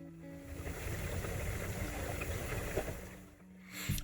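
A 48-volt solar battery bank bubbles steadily as it charges, making a continuous soft, watery wash with a faint hum and no talk over it.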